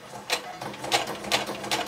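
Domestic sewing machine stitching in short regular bursts, four evenly spaced whirring pulses close by with quiet mechanical hum between them.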